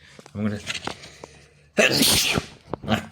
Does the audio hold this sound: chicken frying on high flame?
no